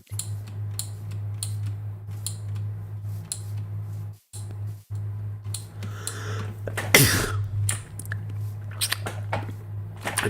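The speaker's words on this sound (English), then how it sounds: "I just sneezed." A person sneezes once in a sudden loud burst partway through, set against a low steady electrical hum and scattered keyboard clicks, with no talking heard.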